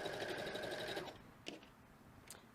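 A sewing machine stitches small quilt blocks for a retro-gaming quilt, running in a fast, steady whir for about a second before stopping, followed by a couple of light mechanical clicks.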